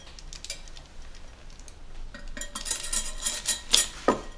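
Metal clinks and rattles as a pot insert is lifted out of an Instant Pot, quiet at first, then a cluster of sharp clanks and scrapes close by.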